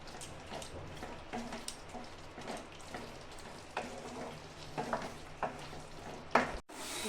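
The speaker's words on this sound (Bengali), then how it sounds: "এটা এখন আমি ভালো করে ভেজে নিব যতক্ষণ তেল উপরে না আসবে" Chicken maharani spice masala fries in oil in a pan, a soft steady sizzle broken by occasional stirring scrapes, fairly faint and close, with no talking.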